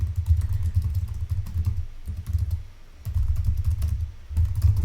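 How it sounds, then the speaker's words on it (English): Rapid, irregular clatter of keys being typed on a computer keyboard, close and fairly loud, in bursts with a brief lull midway and no talking. "I'm just typing anything out."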